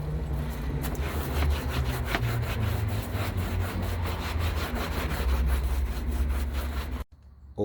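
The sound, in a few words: stiff brush scrubbing fabric car mat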